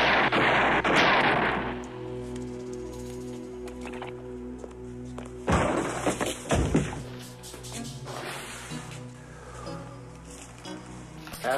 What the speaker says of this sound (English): Shoot it, Leon.